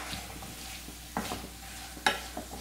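Four large, thinly sliced onions frying in a pan as they are stirred, a soft low sizzle broken by a few sharp scrapes and clinks of the spoon against the pan.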